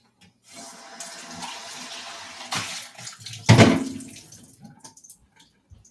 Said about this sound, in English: Just gonna rinse this out